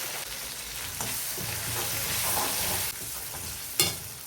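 Onion and green chilli frying in a pan with turmeric for an ivy gourd fry, a steady close sizzle with scraping stir strokes and a sharp clatter near the end, no talk.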